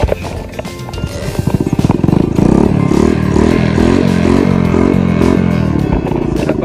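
A 50cc trail motorcycle rattles and revs up close, its engine buzzing in a steady pulsing drone with clattering and scraping over rough ground.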